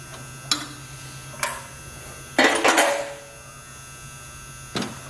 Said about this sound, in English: I got my wrench on there, my socket on there.